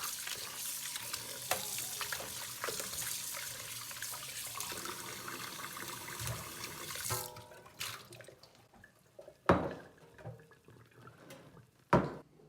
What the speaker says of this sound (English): Now, let's rinse the shrimp out.